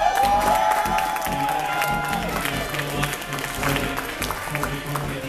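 Crowd applause and cheering at a Pokkén Tournament DX competition at Nintendo NY, a dense, steady wash of clapping and scattered whoops from a room full of people, mixed with a voice speaking over it.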